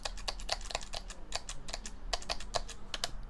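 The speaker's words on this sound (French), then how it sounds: "le clavier braille 8 touches, donc le clavier Perkins qui est relativement silencieux" Someone types briskly on the Perkins-style 8-key braille keyboard of a Focus Blue V5 braille display, a close series of quick, light, fairly quiet key clicks in irregular bursts.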